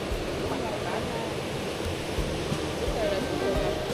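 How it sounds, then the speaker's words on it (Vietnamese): A forest stream below Nền Trời waterfall in Nam Cát Tiên National Park rushes as a steady, broadband wash of flowing water, close and continuous with no breaks. "đây là cái ngọn suối của thác Nền Trời"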